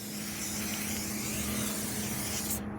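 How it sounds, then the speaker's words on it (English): Meguiar's Hot Shine tire coating sprays onto a Mercedes C-Class tire in a steady, continuous hiss that stops abruptly at the end, close and alone. "Hook up the Meguiar's Hot Shine tire coating."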